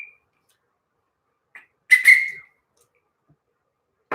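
A single short human whistle rises and falls for about half a second, preceded by a faint brief tone and set against near silence.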